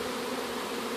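Honey bees swarm-buzz steadily inside a Pagoda Palace beehive, a dense continuous drone with no pauses or voices.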